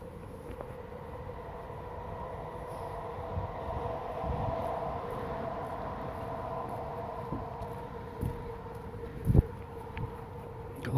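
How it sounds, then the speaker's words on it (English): Train rumbling past at a distance during a park walk, a steady low drone with a few sharp clanks and knocks toward the end, faint and continuous. "Got lots of train action today."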